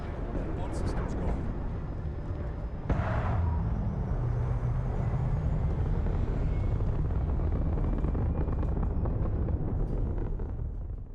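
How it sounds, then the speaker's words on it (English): A spaceship lifting off in Starfield: a rumbling engine roar that swells with a sharp burst near three seconds, then holds a steady, loud low thrust under faint game ambience. "All crew prepare for takeoff."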